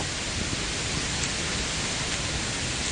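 Heavy rain pours down outdoors in a steady, dense downpour, a continuous close-up roar of falling water with no breaks and no voices.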